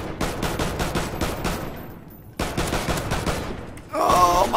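Bursts of rapid gunfire in the Call of Duty: Ghosts video game come in fast repeated volleys, pause briefly, then resume, ending with a louder rising burst of game sound.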